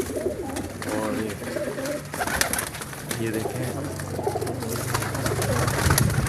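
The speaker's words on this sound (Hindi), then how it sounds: "ये सियालकोटी ब्रीड है, ठीक है। ये काला ज़ाफ़ कबूतर जो है वो है" Sialkoti breed pigeons, including a black one, coo on a rooftop in Pakistan, a soft steady burbling close by under someone talking throughout.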